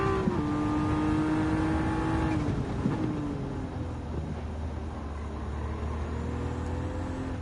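Race cars, Nissan Skylines and GT-Rs, lap a garden circuit in Gran Turismo 7, their engines droning loud and close. The pitch climbs and falls with shifts, and one rev cuts back at mid-clip before it settles into a lower hum.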